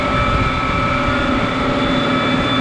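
A tractor engine runs in a steady, loud, unbroken drone with a deep rumble and a constant mechanical whine while it is shifted into reverse. No voices are heard.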